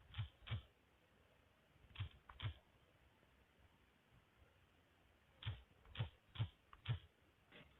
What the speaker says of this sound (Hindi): हम इधर अपना IMEI नंबर इंटर करते हैं।